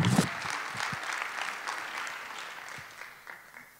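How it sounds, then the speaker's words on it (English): A keynote audience at a conference claps for a guest, the applause fairly soft and steady, fading gradually over a few seconds. "A big round of applause for Bobbi Cordano"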